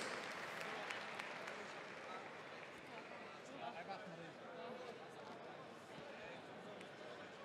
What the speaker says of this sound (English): Well, ladies and gentlemen, first of all, make applause for Christina Alexova and Sarel de Jong.